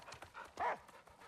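A dog in the movie Prey gives one sharp, fairly loud bark in the middle of a short stretch, with soft thudding, hoof-like sounds before and after it.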